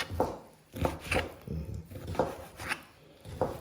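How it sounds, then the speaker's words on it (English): A knife slices food into quarter-inch pieces on a cutting board, with steady, evenly spaced chops heard close up and no talking. "I'm just gonna cut it in half, and then just gonna make not cubes, but sort of slices, but 1/4 inch thick"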